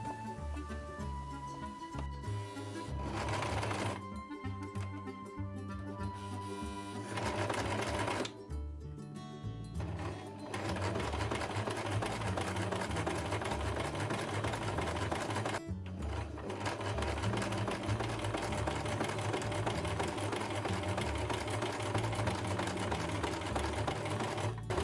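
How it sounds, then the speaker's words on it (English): Sewing machine stitching along the right side of blouse fabric, a continuous loud mechanical whirring with brief pauses and restarts, close up and alone without speech. "stitch on the right side of the fabric, using the basting line as our stitch guide"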